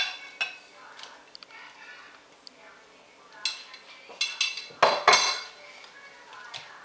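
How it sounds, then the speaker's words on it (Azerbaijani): Grated apple and egg being mixed quickly in a bowl for apple fritters: a run of light clinks and scrapes of a utensil against the bowl, irregular and close, with a few sharper knocks near the end. "Ona görə yumurta ilə tez qarışdırıram."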